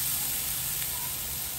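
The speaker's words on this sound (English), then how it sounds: "Love hearing that sizzle." Flank steak sizzling on an oiled soapstone set over hot coals, a steady broadband hiss that runs evenly and fairly loud through the short moment with no talk.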